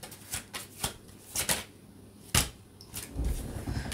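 Tarot cards are shuffled and drawn in a close, quiet room, several crisp riffling bursts and slaps spaced apart, ending in a longer rustling shuffle.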